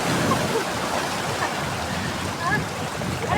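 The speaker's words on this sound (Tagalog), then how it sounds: "Lakas ng alon dito." Strong sea waves crash and wash over a rocky beach at Dingalan, Aurora, making a steady broadband roar of surf and water with gusts of wind, while voices can be heard faintly now and then.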